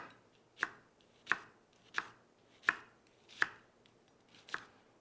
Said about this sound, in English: I'm going to mince this shallot because I think it needs just a little more flavor